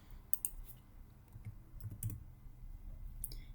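A search is typed on a computer keyboard: a few quiet, scattered key clicks in a near-silent room.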